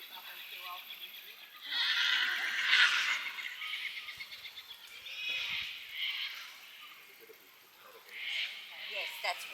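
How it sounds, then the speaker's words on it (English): Ridden horse on a rural outing near Kotupna gives several high, wavering neighs or whinny-like calls in bursts, fairly close, with people talking around it. "So you see the horse she's riding."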